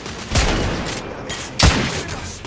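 Gunfire in the video game The Order: 1886 comes as two loud, close booming bursts about a second apart, each fading into rumbling noise, no voices over them.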